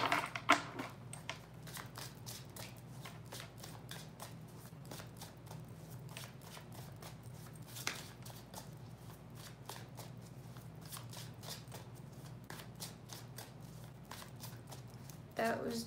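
A deck of cards being shuffled during a tarot-style reading, with many quick riffling bursts across the whole stretch, close and fairly loud, and a few louder snaps near the start and end.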